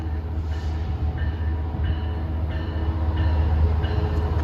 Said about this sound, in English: That is Metrolink.